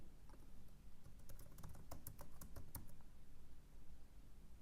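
Fingers type on a computer keyboard to enter a namespace ID, a quick faint run of clicking keystrokes in a quiet room with no voices.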